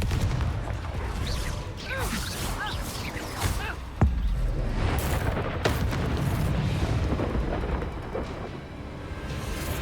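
Bombarda and Confringo spells go off in Hogwarts Legacy combat, a loud, continuous rumble of booms and blasts with a sharp crack of impact partway through.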